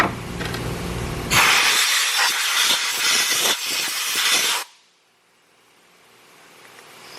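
Compressed air blasts off a machined part in a workshop, a loud hissing burst of about three seconds with short pulses, cutting off sharply into quiet.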